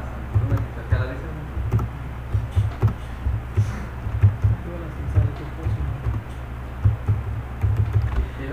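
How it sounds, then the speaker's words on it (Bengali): Rapid, uneven keystrokes on a computer keyboard while a new text file is typed, close and fairly steady over a low background hum. "আমরা এখানে কিছু একটা লিখলাম।"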